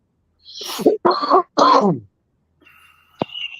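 A few harsh, throaty coughs in quick succession close to the microphone, followed by a faint high tone and a sharp click.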